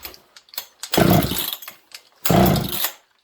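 An old chainsaw being pull-started in a shop, two strong rasping starter pulls with short clicks between, the engine not catching.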